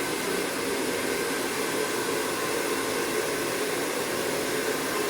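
Hair dryer blowing continuously during barbershop training, a loud, steady, broadband whoosh that holds at one level for the whole stretch with no talk.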